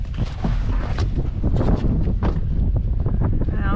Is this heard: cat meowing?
no